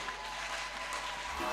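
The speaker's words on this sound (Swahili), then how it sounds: "Weka makofi kwa Yesu aliye hai." Church congregation applauding during a service at EAGT Mlima wa Faraja, a steady, dense wash of clapping that holds evenly throughout at moderate level, with no speech over it.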